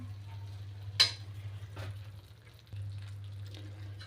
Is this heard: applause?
no